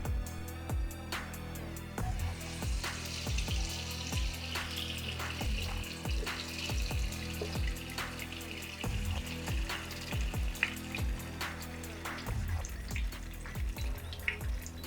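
Peanut oil mixed with palm oil heats over a fire in a pot, giving a steady sizzle with frequent crackles and small bubbling pops throughout, with no talking.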